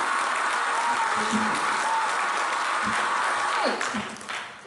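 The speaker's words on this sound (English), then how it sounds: "Let's give them all a round of applause." Steady applause from an audience, a dense wash of clapping that holds for several seconds before beginning to thin out at the end.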